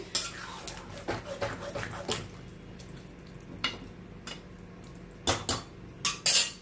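Water poured and sloshed into a pan of spiced Tapka chicken being braised, with scattered clinks of metal utensils and a few sharper scraping clatters near the end, close and moderately loud.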